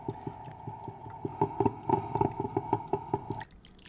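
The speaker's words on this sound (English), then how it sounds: "I associate the sound of making coffee with the start of a new day." Rapid, rhythmic dripping and gurgling of coffee brewing over a steady hum, stopping abruptly near the end.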